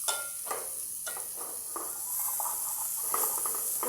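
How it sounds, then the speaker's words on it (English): Onion frying in a pot outdoors, a steady bright sizzle with a few soft stirring scrapes and clinks spread through the few seconds, no voices. "fry the onion"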